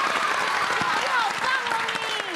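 A group of children at a party game session applauding, brief dense clapping mixed with voices and an adult talking over it.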